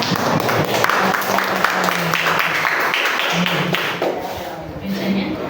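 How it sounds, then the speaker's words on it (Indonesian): Classroom applause from a group of children, quick clapping spread through the whole stretch with voices talking and calling out over it. "Tepuk tangan."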